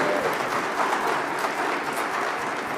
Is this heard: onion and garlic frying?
no